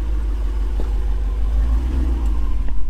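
Jeep Wrangler 392 with a Hemi V8 on factory tires, crawling off-road with a steady deep low rumble and slight throttle swells throughout, close and continuous, with no talk over it.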